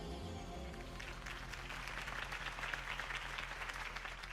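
A crowd applauds steadily in Batman: The Telltale Series after a Harvey Dent campaign speech, the dense clapping staying continuous and moderately distant from start to finish.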